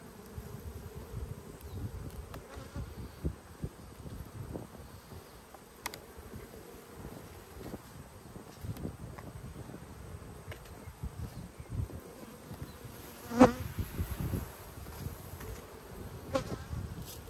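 Honeybees buzzing around an open hive box during an inspection, a steady faint swarm hum with individual bees passing close now and then, one louder pass near the end, no speech.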